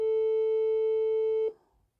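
Telephone ringback tone on an unanswered call: a steady, clean electronic tone held for about a second and a half, then cutting off abruptly into near silence.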